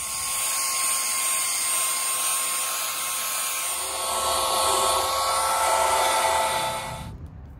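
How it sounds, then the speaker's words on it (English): A handheld belt sander sanding down glued wood for a lightweight dinghy build, a loud, steady high whine with a rising grinding tone in the second half before it cuts off abruptly near the end. "These handheld belt sanders are pretty awesome"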